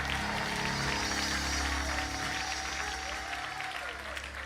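A church congregation applauding, a dense, sustained clapping that fills the room evenly from start to finish, with some voices mixed underneath.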